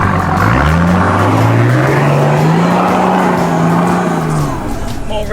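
A four-wheel-drive off-road vehicle engine revs hard in third gear low range with lockers engaged, climbing a track and holding a high strained note under load, close and loud, with a rough gravelly wash of noise around it.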